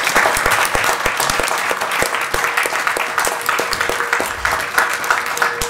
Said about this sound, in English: give a big round of applause to all these student athletes